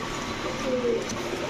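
Female pigeons of fancy breeds coo softly in a loft, a low murmur over a steady background of other birds.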